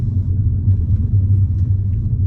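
A BMW 2 Series Gran Tourer 216i M Sport drives along a town street, heard from inside as a steady low engine and road rumble with a faint hum and no talking.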